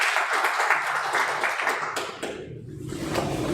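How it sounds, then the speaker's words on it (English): Audience clapping at a certificate award ceremony at the Rift Valley Innovation Centre in Eldama Ravine: steady, dense applause from a nearby crowd that carries on for a few seconds and eases briefly toward the end. "Please clap for."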